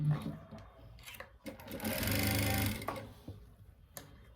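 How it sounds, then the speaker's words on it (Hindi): Sewing machine running in bursts as it stitches together pieces of trousers, the lower leg section joined at a seam, with a sustained run of stitching in the middle and shorter starts around it. "इस तरह हम इसको सिलाई लगा देंगे"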